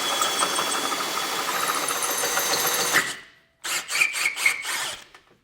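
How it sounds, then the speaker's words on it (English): A loud, steady drill whine with a 17/16 bit grinds through hardened steel continuously, cuts off briefly, then resumes in short bursts with a harsh metallic edge. "we'll come back through with our 17/16 bit and finish getting this drilled out"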